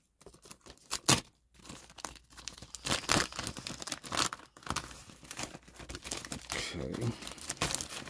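Plastic package with a card inside being unwrapped, a run of close, loud crinkling and tearing bursts with brief pauses, while someone speaks a word partway through.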